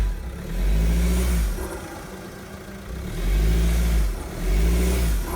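Fiat Toro 4x4 engine on a night off-road trail, loud and close, surging in repeated revs with low rumble between pushes.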